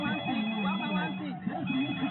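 A mobile phone ringtone plays within a radio advert, its tonal melody repeating continuously at moderate loudness over narrow, broadcast-quality sound.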